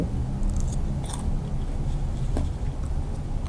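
Close crunchy chewing of crisp Thai pork cracklings (kak mu), with a few sharp bites and crackles over a busy, noisy background.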